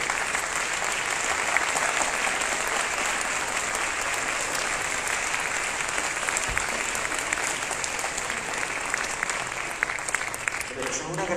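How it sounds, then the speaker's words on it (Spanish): Sustained applause from a concert audience for a choir at an international choral festival in Caracas, dense and steady throughout with no break. "Aplausos para ustedes."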